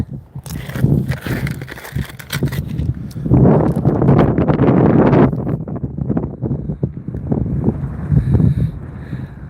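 Gusty wind roars across the microphone outdoors at an Alaska gold-prospecting site with a sluice running, loud rumbling bursts swelling and easing, strongest in the middle.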